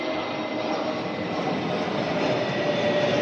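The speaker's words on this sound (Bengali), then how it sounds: "2-3 মিনিট পর পরই মানে বিমান উড়ে যায়," An airplane passes overhead near an airport, a steady broadband engine roar holding at constant loudness throughout, with no voices.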